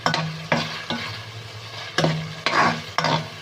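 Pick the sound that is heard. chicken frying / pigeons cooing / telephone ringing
chicken frying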